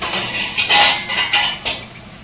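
A metal lid clinks and rattles onto a cooking pan of tomatoes, onion and salt in a home kitchen, with a few bright, close taps settling into place and no talking.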